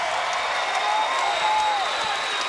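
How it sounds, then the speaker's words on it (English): Crowd in the Rainbow Dome at a Hawai'i versus USC volleyball match roars and applauds in a dense, steady wash, with a whistle-like tone riding above it. "listen to this crowd"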